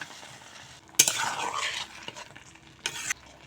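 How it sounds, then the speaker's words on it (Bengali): Fried potatoes being stirred in a pan with tomato and spices, a soft steady sizzle with two sharp scraping bursts of the spoon against the pan, no voices. "আলু দিয়ে আবারও মশলার সঙ্গে ভালো করে মিশিয়ে নেব"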